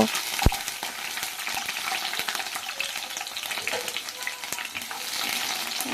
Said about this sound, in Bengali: তো প্রথমে আমি ক্যাপসিকাম আর পেঁয়াজটাকে ভেজে নেব।